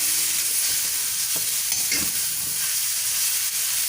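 A mango rice mixture with powdered jaggery and salt cooking in a pan, a loud steady sizzle and hiss with a few soft scraping stirs, no voices.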